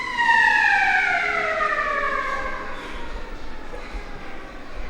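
An emergency vehicle siren wails past, its falling pitch sweeping down loudly at first and then fading into distant traffic rumble.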